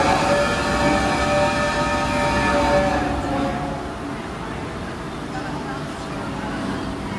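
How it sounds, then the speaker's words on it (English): A theme-park train at Universal Studios Florida rumbles steadily with a low mechanical drone and a faint tonal whine, while people chatter nearby over the noise. "it's a real train."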